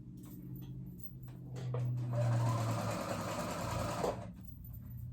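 A sewing machine stitches a ruffle with the thread tension raised, starting with short bursts of needle clatter and then running at a steady, close, whirring hum for about two seconds before it slows and stops.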